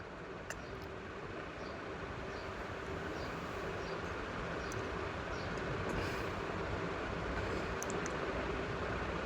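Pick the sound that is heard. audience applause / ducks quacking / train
train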